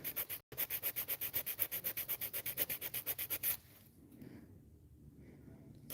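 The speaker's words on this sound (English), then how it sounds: "you also have to be very careful on how you're filing, because if you file too hard, you might break the tip" Acrylic nails being filed with a nail file: a rapid, steady run of close rasping strokes for a few seconds, stopping abruptly and leaving quiet room tone.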